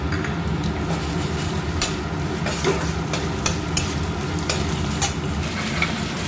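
Sliced onions fry in a pan of oil as garlic and ginger paste go in, giving a constant close sizzle broken by sharp scrapes and clicks from stirring, with no talk.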